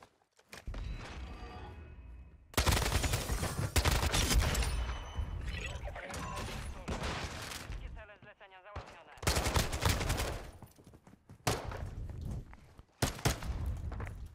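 Bursts of gunfire in the Warzone 2 video game come loud and close in several rapid volleys separated by short gaps, with players talking over some of the shooting.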